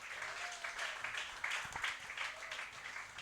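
A church congregation applauds steadily during a Sunday worship service, a dense, continuous wash of clapping that swells briefly in the middle and holds at a moderate level throughout.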